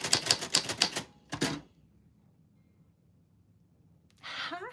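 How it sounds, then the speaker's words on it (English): Manual typewriter keys clatter in a quick, loud burst of strikes, then a pause and a short second flurry, followed by near silence before a bright ringing bell-like chime closes the sequence. "the people whose name falls on the typewriter bell, they get good luck"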